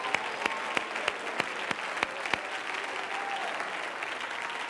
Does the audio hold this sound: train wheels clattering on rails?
no